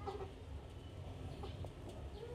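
Young Japanese-breed chickens, about 40 days old, cluck and chirp softly in short scattered calls over a low steady background hum, faint and somewhat distant.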